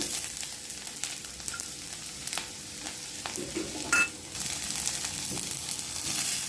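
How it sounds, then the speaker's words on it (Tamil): Shallots and garlic sauté in a little oil in a pan, a steady close sizzle with occasional stirring scrapes and small clatters, no voices. "நான் எடுத்து கொஞ்சமாக எண்ணெய் விட்டு வதக்கிக்கிறேன் சின்ன வெங்காயம்"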